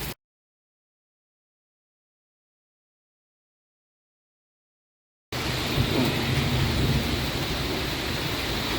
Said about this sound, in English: Yeah, still raining, and apparently it will be raining.